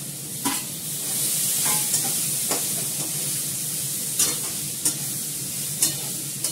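Pointed gourd pieces and ginger fry with a steady sizzle in a pan, broken by regular scraping strokes of a stirring spatula, close and loud with no speech.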